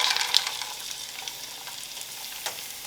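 Peas and carrots sizzling in a hot oiled pan on high heat, a bright crackling hiss loudest at first then settling into a steady, even fry, close and alone without voices.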